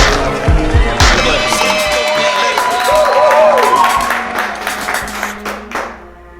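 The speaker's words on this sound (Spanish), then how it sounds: "¡Aplausos!" Live audience at a comedy show in Hermosillo, Sonora, breaking into loud, sustained applause and cheering with whistles, swelling then tapering off near the end.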